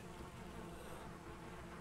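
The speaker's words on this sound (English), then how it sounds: "Don't startle me like that, bees." Bees buzz in a foggy swamp in the Valheim video game, a steady close drone that stays continuous throughout.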